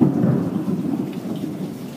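Rain falls steadily outside while low thunder rumbles continuously, a dense, fairly loud wash with no voices.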